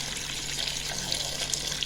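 Boiling water poured from a kettle over a clay pot of beef head meat, a steady close splashing rush that holds even and fairly loud throughout.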